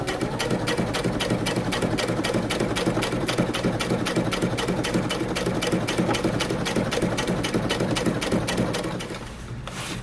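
A sewing machine topstitches the pocket lining of a pair of jeans, running in a fast, even rhythmic chatter of needle strokes for about nine seconds before stopping, close and clear with no voices.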